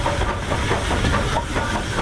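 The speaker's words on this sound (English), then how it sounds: "I spotted a light engine coming up the Crewe line" Steam locomotive running as a light engine on the Crewe line at Edgeley, Stockport, a loud, continuous rushing hiss of steam with a rough rumbling underneath, close and steady throughout.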